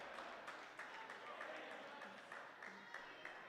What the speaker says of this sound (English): He gets a big standing applause and cheer from the crowd.